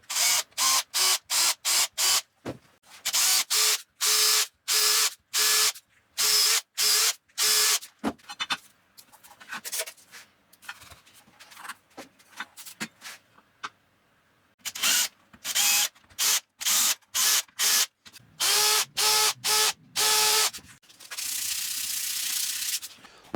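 A drill bores ferrule holes in a guitar body during a build, in many short, loud, whirring bursts with quiet gaps between them, ending in a longer continuous run, with no talking.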